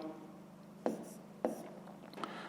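A pen writes on paper while working a fifth-grade math exercise, giving soft scratching strokes with a few sharper taps, close and quiet over a faint background hum.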